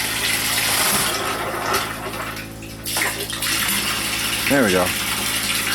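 Water gushing and splashing steadily into a fish tank at an off-grid homestead, a continuous close pour with a brief spoken remark over it.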